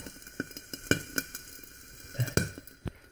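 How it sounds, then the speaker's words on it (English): Wood ear mushroom strips frying in a pan on a stove, giving a faint sizzle broken by several sharp pops and spits at irregular intervals, with no talking. "Frying Jew's ears into thin strips can be quite dangerous, but they're nice and tasty."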